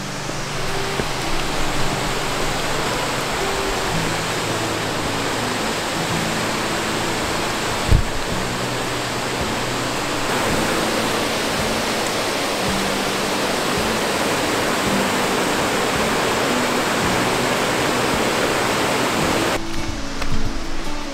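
A waterfall in Ireland roars as a dense, constant wash of falling water, loud and close, with a brief thump partway through.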